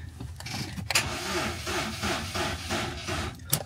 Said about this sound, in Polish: Najpierw odpalimy, zanim tutaj odłączę. Zobaczymy, jak odpali, jak działa.